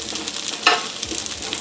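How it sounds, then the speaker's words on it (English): Asparagus sizzles in a frying pan with a steady, close crackle of frying and a sharper burst of hissing partway through, with no voices. "our asparagus is cooking and sizzling nice"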